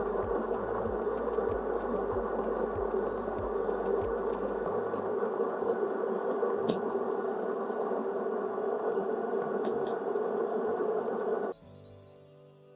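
A Dualit espresso grinder grinds coffee beans for a double shot: a steady, loud motor whine with gritty grinding texture runs for about eleven seconds, a brief rhythmic knocking at the start, then cuts off abruptly into quiet.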